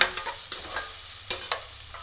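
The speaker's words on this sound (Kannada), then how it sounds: "ಬೇಯಿಸಿಟ್ಕೊಂಡಿರುವಂಥ ಗೋರಿಕಾಯಿನ ಹಾಕ್ತಾ ಇದ್ದೀನಿ ಗಾಯ್ಸ್." Boiled cluster beans tipped into cooked tomato in a pan, a brief soft sizzle with a few spoon scrapes and taps, fairly quiet and alone.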